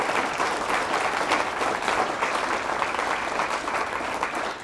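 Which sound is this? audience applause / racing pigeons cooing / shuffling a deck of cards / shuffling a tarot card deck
audience applause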